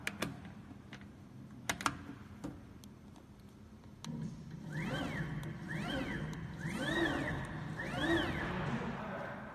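Double-head CNC router spindle motors running, a whine that repeatedly rises and falls in pitch in four evenly spaced sweeps over a low hum, preceded by scattered sharp clicks and taps.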